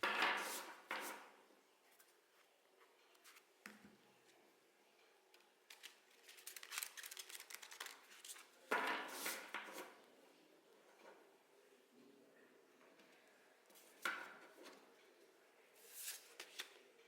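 A deck of tarot cards is shuffled over and over, with quiet papery riffles and slaps coming in irregular bursts and faint pauses between them, close and soft.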